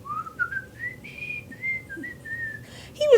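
A human voice whistles a cheerful rising and falling tune, mimicking a whistling scarecrow; clear, close and steady, ending with a brief vocal sound.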